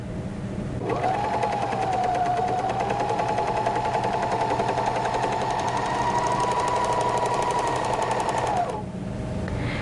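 A BERNINA 1300 MDC / 1150 MDA overlocker runs a narrow 3-thread overlock stitch in one loud, steady, rapid mechanical whir lasting about eight seconds, starting and stopping abruptly, close and alone.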